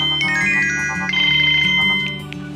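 A phone ringtone plays a repeating electronic melody, loud and close, with no one talking over it.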